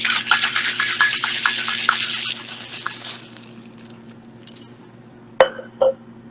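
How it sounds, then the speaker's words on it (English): A coffee cocktail is shaken hard with ice, giving a dense run of rattling clinks for a couple of seconds that then trails into a few scattered glassy taps, with a low hum underneath. "And then we're just going to shake it."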